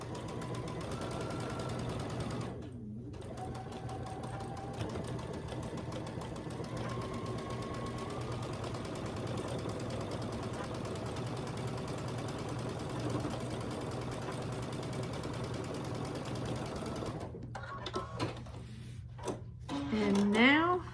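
A sewing machine stitches down a pinned seam on a quilt block, a low, steady, continuous hum lasting most of the time, with a brief pause early on and faint handling noises toward the end.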